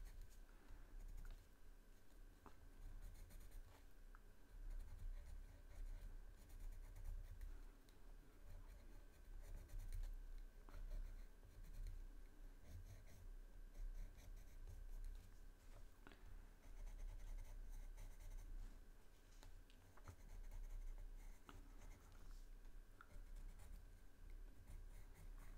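White colored pencil scratching across paper while drawing, a soft continuous scraping and patter of strokes at close range, steady throughout with no voices.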